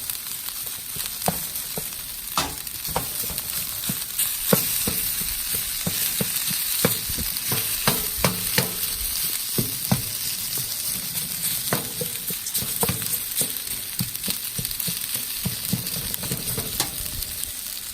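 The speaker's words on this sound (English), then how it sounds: "now we're gonna drop our rice. Get this broken up in there" Rice poured into a hot paella pan for surf and turf paella, sizzling steadily in the oil while a utensil scrapes and clicks against the pan as it is stirred, with no voices.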